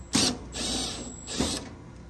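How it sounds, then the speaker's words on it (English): Refrigerant service valves being shut on an HVAC system during a Ruud evaporator and valve swap: two short bursts of metallic ratcheting clicks, close and fairly quiet, separated by a brief pause. "We're gonna pump the refrigerant back into the compressor, shut our valves off."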